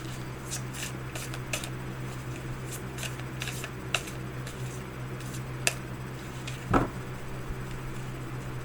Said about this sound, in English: So they are kind of hard to shuffle.